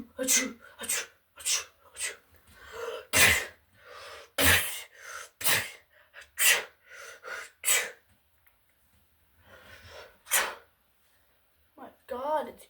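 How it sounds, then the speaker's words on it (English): Repeated sneezing after drinking a so-called sneezing potion: a string of close, sharp sneezes and gasping breaths in uneven bursts, then a quieter pause, a final sneeze and brief speech. "Jeez, I keep sneezing."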